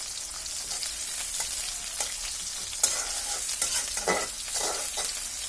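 Chopped onions and green chilies frying in a pan, with a steady close sizzle and scraping stirring strokes that bring louder bursts of crackle near the end.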